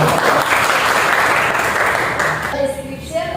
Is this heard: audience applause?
yes